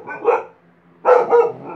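Two short bursts of indoor dog barking, close and fairly loud, each a quick cluster of barks separated by a half-second pause, with no talk over them.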